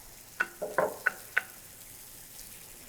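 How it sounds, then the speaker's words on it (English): Tomatoes dropped into hot oil for a Chinese stir fry, giving a few quick sizzling crackles and stirring clatters in close succession, then settling into a faint low sizzle. "I think we can probably put in the tomatoes."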